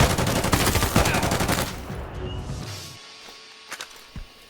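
Rapid automatic gunfire crackles in a dense burst during a firefight with an enemy soldier in Incursion Red River, then falls away into a quieter tail with a couple of isolated shots.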